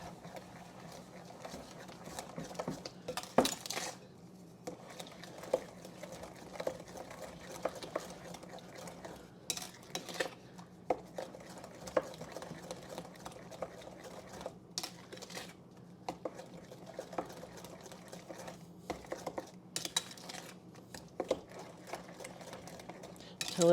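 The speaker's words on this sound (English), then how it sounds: "I'm just going to go ahead and just hand stir this" Sourdough discard banana bread batter being stirred by hand in a bowl, a soft steady scraping and clicking that runs throughout with a few sharper knocks of the utensil against the bowl, close and fairly quiet.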